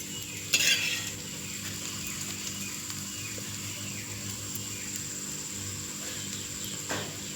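Food fries in oil in a pan over a low flame, a soft, steady sizzle broken by a sharp clatter of a utensil stirring near the start and another brief scrape near the end.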